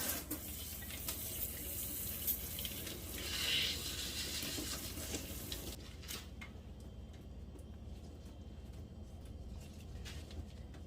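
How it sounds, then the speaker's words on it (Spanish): Soursop (guanábana) fruit rinsed under a running kitchen tap, a steady close splashing hiss of water into a sink that thins out partway through, with no talking. "Es muy importante que laves tus frutas y verduras antes de consumirla, aunque la vayas a pelar, y la vamos a enjuagar."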